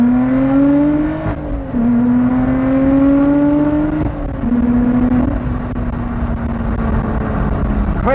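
A Lotus Exige 410 sports car engine holds a steady loud drone from inside the car, its pitch climbing through each gear and then dipping briefly at every shift, repeated several times.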